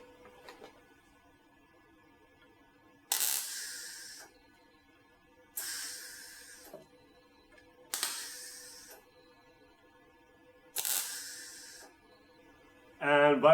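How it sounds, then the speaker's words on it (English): Spot welding on a Jeep exhaust during a home exhaust-leak repair: four separate bursts of harsh, hissing crackle, each about a second long, with quiet gaps between them. "Let's do some spot welding."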